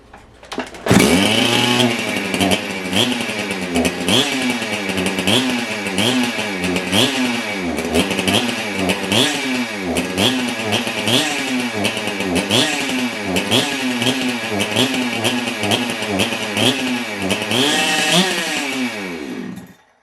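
A ported big-bore Husqvarna 372XP chainsaw starts and runs, repeatedly revving up and dropping back in a loud, close, rhythmic cycle for about twenty seconds before cutting off.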